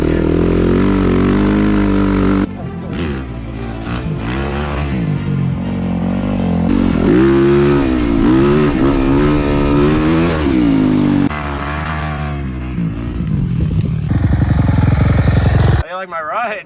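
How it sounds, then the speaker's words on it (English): A dirt bike fitted with a dually front wheel revs hard while popping a wheelie in sand dunes, its engine rising and falling loudly and close with a sharp whine, and people talk over it. "I gotta get a wheelie in here."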